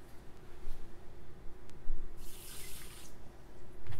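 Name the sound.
pouring a glass of water into bulgur for tabbouleh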